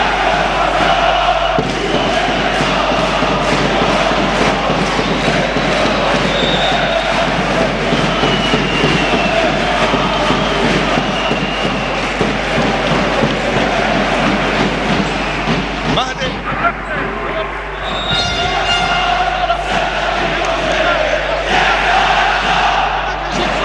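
Crowd of basketball fans cheering and chanting loudly throughout an indoor arena during a Hussam Eddine Hariri tournament game between Homenetmen and ESS, a dense continuous roar with a commentator's voice over it.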